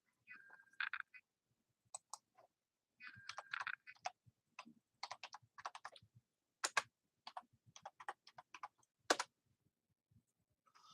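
Someone types on a computer keyboard during a live stream in scattered, uneven bursts of faint clicks and taps, with short pauses between groups of keystrokes and no talking.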